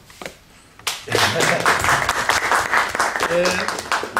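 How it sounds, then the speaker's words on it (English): After a few faint sounds, applause from a presentation audience breaks out and carries on steadily, moderately loud, with brief voices mixed in. "A little applause."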